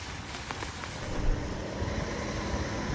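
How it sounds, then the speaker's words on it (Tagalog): Dense, steady broadband hiss of heavy typhoon rain pouring continuously in Tagbilaran City, Bohol, during Typhoon Basyang, filling the whole clip without any voices. "walang tigil ang ulan sa Tagbilaran City sa Bohol dahil sa bagyong Basyang"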